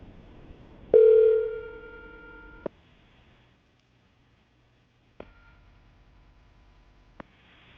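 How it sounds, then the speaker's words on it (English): Telephone call being placed on a landline: a long steady tone, a pause, then a second stretch of tone, with brief clicks between, clean and close with no talking. "I'm going to dial the phone number, see if we can get her on the phone"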